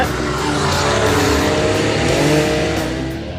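A Porsche sports car engine with a PDK gearbox roars steadily at high revs, loud and close, with a rising and falling throaty drone throughout.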